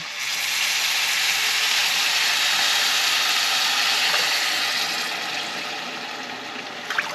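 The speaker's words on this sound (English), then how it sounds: "we're gonna add 2 cups of water" Water pours steadily from a half cup into a pot of rice, a bright continuous splashing stream that tapers off toward the end.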